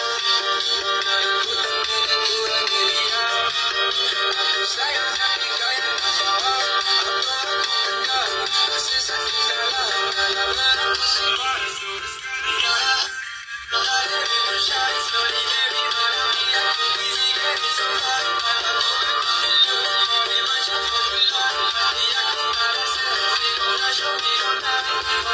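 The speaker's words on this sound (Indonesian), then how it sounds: "Dan untuk nada deringnya sekarang seperti ini." A Samsung A05 rings for an incoming WhatsApp call with a TikTok song set as the ringtone, a loud, continuous melody with a brief dropout midway.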